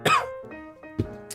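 A single sharp cough up close, followed by a few softer throat noises and a brief clearing sound.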